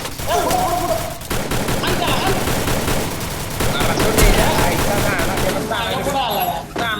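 Rapid machine gun bursts and gunfire in a multiplayer shooter video game, loud and continuous, with overlapping shots and effects throughout while players talk over it.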